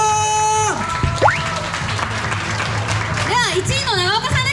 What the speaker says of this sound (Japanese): もう一度盛大な拍手お願いいたします。